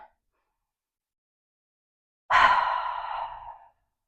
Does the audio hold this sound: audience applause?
no